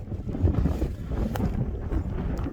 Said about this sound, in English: that wind is a little chilly out here